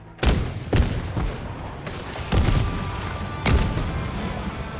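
Gunfire in the video game Fortnite: a handful of loud, sharp shots at irregular intervals, each with a short booming tail, close and dominant.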